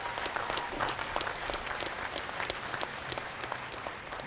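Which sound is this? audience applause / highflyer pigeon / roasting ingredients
audience applause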